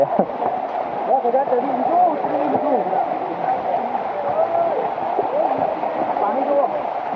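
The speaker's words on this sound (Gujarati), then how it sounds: "ફૂલ પાણી વહે।" Water flows down stone steps on the Girnar hill trail in a steady, close rushing wash, while people talk over it throughout.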